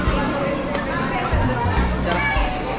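Crowd at Snow City in Bengaluru, a steady close hubbub of many overlapping voices and children's chatter filling the space without a break, with someone talking near the front.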